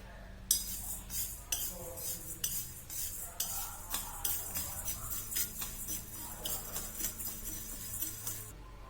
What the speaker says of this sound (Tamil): இந்த பாசிப்பருப்பு துவரம் பருப்பு சேர்த்து வறுத்துக்குங்க இந்த ரெண்டையும் ஒன்றாவே போட்டு வறுக்கலாங்க